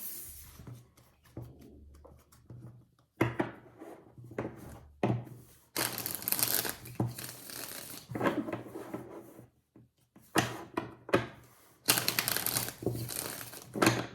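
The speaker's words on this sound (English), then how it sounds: "Shuffling for Gemini, May 1st to the 15th," Tarot cards being shuffled by hand in bursts of riffling and rustling, separated by pauses with soft taps and handling noise, close and fairly quiet, with no speech.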